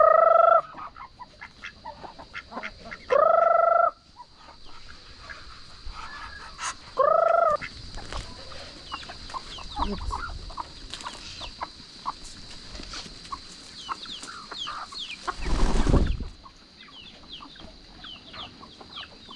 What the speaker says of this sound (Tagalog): Manok naman po ngayon ang papakainin natin.